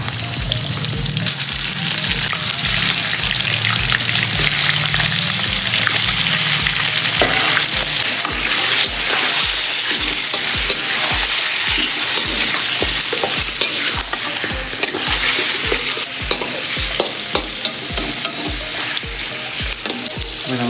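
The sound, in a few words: chicken frying and being stirred in a pan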